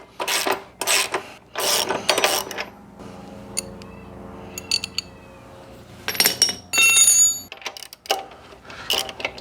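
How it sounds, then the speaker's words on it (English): A ratchet socket wrench loosens a shock absorber bolt on a Royal Enfield Meteor/Classic 350 motorcycle, sounding as loud bursts of rapid clicking ratcheting that alternate with quieter pauses and a few metallic clinks. "18mm long reach socket there, and an 18mm spanner on the other side."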